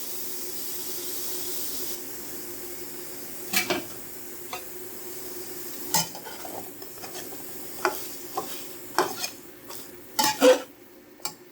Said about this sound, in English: cook it for 8 to 10 minutes, stirring on occasion to blend the ingredients